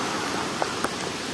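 Floodwater pouring through storm drains during a heavy downpour in Temryuk, a dense continuous rushing wash with a couple of faint knocks, steady and close, with no talk.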